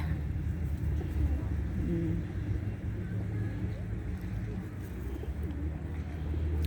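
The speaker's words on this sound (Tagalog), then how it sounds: "Kaluoy sa mga ibon nga gutom." Low pigeon coos murmur over steady rumbling background noise, soft and continuous, with a faint voice or two in the distance.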